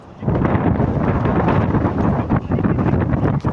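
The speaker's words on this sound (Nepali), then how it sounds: "एकदमै राम्रो हावा बगिरहेछ।" Strong outdoor wind buffets the microphone in a steady, loud roar for the whole stretch, with brief dips in force near the end and no voices.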